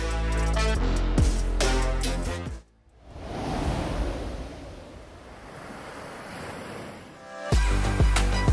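Ocean surf rolling in at a beach, a steady broadband rush of breaking waves with wind, heard alone for several seconds between stretches of music at the start and end.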